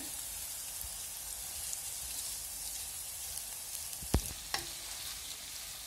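Minced meat and onion frying in an oiled pan, a soft continuous sizzle with a couple of sharp utensil clicks near the end.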